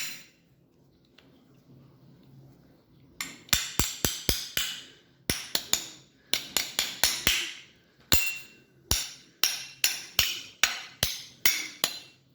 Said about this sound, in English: we go for our trusty friend, the hammer again